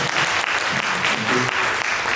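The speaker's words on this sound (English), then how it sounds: "Bravo, you can applaud." Concert audience applauding the cello section of a youth symphony orchestra, dense and loud clapping that holds steady throughout with faint voices underneath.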